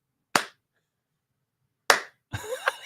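Two sharp, isolated claps from a small comedy club audience, each a crisp single smack separated by silence, followed by a brief burst of voices.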